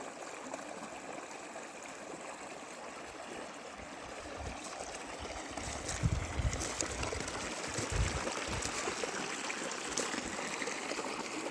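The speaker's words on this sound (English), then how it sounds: "I love the sound of water." Water flows and trickles steadily over rocks in a stream, a continuous close babble that grows slightly louder and busier partway through.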